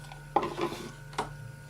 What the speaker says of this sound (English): Water into a bowl, then stir in the salt.